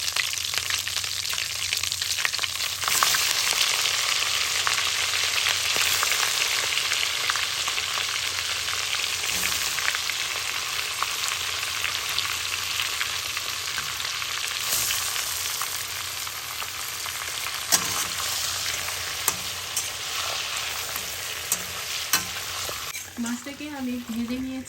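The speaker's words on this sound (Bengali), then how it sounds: "মাছটাকে আমি ভেজে নিয়েছি।" Pieces of lobster frying in a pan, with a steady broadband sizzle that runs for the whole stretch, a few stirring knocks and brief faint speech near the end.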